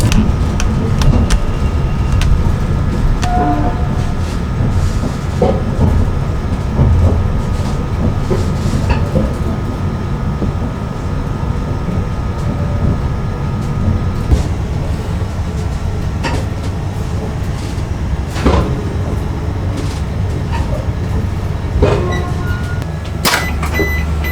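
Tejas Express train running at speed, heard from inside a chair car coach near the front of the train; a steady loud rumble with rattling and occasional clicks from the track continues throughout, with no talking.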